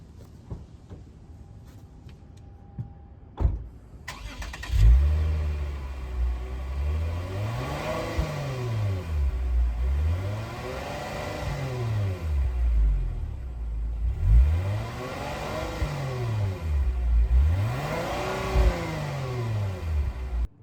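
A few quiet clicks, then a truck engine cranks and starts, followed by several rising and falling revs from a deep, rumbling motor, close by.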